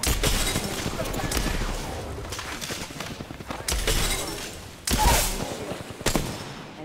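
Video game gunfire crackles in repeated bursts, with several sharp, loud shots standing out near the end over a busy background of game effects.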